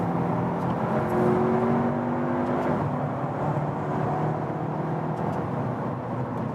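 A VW Passat Alltrack with a 2-liter turbo engine accelerating hard from 100 km/h, a steady loud engine drone with rising tones and a brief dip at a gear shift, heard from inside the cabin.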